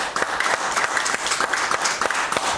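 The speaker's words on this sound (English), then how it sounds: "Give the Lord a hand clap this morning." A church congregation claps during a Sunday service, loud close hand claps in a fairly regular rhythm, roughly twice per second, ringing through the room without pause.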